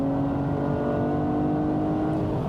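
A Porsche Cayenne S engine revs hard under full-throttle acceleration in normal mode, giving a steady, loud, close drone that holds without a break.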